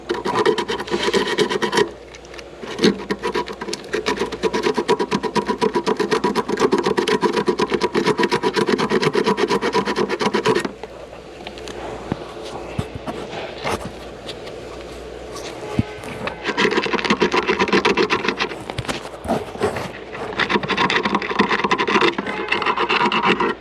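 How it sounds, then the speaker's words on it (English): Sandpaper scrubbing a ground point on a 2023 Genesis GV70, loud rasping back-and-forth rubbing in long steady bursts with a short pause midway, close up. "I just use sandpaper there."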